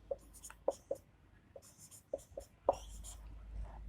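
A pen or chalk scratching out an exponent example on a board, a series of short, separate strokes and taps with brief pauses between them, close and fairly quiet.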